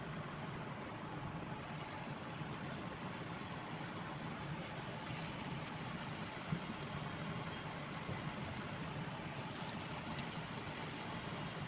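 Bottle gourd koftas fry in hot oil, giving a steady, dense sizzling hiss that stays even and fairly faint throughout, with no voices.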